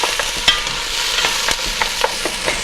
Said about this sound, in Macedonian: оризот кој е измиен претходно, ќе го додадеме на кромидот и малце ќе го потпржеме